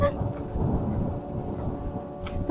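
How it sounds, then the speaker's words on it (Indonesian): Thunder with rain outdoors in late afternoon: a low, broad rumble rolls continuously under steady rain hiss, with brief sharper patters on top and no talking. "Hujan nih."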